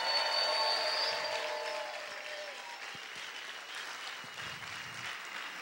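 A Spanish-speaking church congregation applauds loudly and continuously, with cheering voices layered over the dense clapping early on before it settles into a steady, slightly softer roar.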